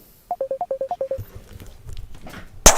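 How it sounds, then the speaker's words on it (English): A phone in Fallout New Vegas gives a quick run of about ten short, evenly spaced electronic tones, like a dialing or ringing sequence, followed by faint rustling and a sharp click at the end. "Hold on a moment, I got a phone call."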